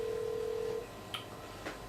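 A phone dialing tone from a call for a taxi in GTA 5 gives a steady tone for under a second, then two brief faint beeps, quiet and without speech.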